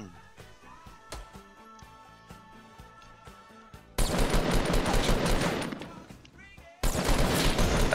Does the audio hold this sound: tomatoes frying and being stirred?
no